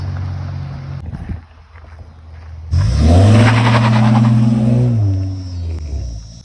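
A GMC Sierra 2500 pickup does a burnout on gravel: after a low idle the engine suddenly roars to a loud, sustained high rev with wheelspin for about two seconds, then settles back down.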